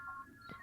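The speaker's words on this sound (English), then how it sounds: "That was a phone number they're dialing in, kind of." Telephone dialing tones from a 1978 science-fiction television special's computer terminal, a short burst of steady electronic tones lasting under a second, fairly faint.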